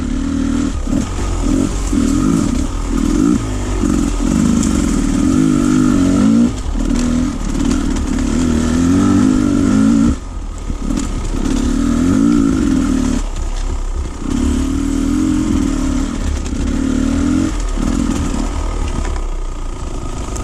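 A motorcycle rumbles loudly on a memorial ride, its engine revving up and easing off in repeated surges between steadier cruising stretches, close and continuous with wind noise and no talk.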